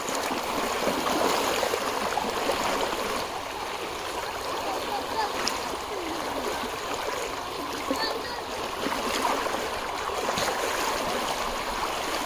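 A strong monsoon floodwater current rushes steadily and loudly, a continuous roaring wash with occasional splashes, with faint voices of people fishing in the background.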